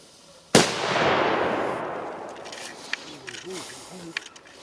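A single sharp firecracker bang, then a long fading rumble with faint scattered pops and crackles afterward.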